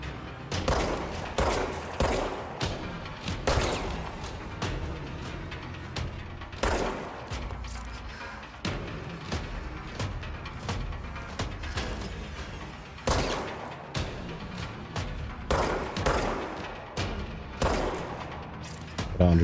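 Gunfire in the video game Control comes as repeated sharp shots in uneven bursts across the whole stretch, with heavier booming impacts mixed in.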